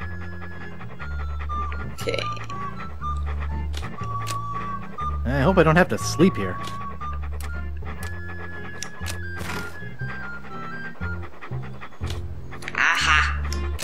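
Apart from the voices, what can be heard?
dog Walt panting in video game Monkey Island 2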